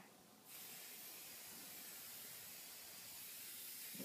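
A can of spray paint hisses steadily onto foam board from close range, one continuous spray lasting several seconds, with nobody talking.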